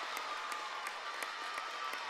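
A gymnastics crowd in a college arena applauds a floor routine, with scattered claps and cheers over a steady background murmur, heard from a moderate distance.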